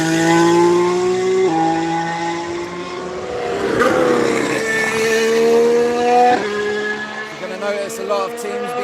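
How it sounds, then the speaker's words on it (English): A Renault Formula 1 car leaves the pits at a race circuit, its high engine note rising through gear changes and fading against crowd and track ambience, with someone talking over it. "we've got a Renault just coming out of the pits"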